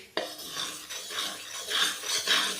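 Gram flour roasting in a pan for besan karah prasad, stirred with a metal spoon that scrapes and clinks against the pan in repeated rubbing strokes, close and fairly quiet.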